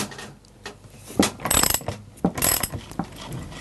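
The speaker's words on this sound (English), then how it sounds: "I just need to undo these two nuts which are holding on the clutch cover, just using a 13mm socket" A 13mm socket on a ratchet undoes the two clutch cover nuts of a chainsaw, giving close, crisp bursts of rapid clicking in short irregular runs.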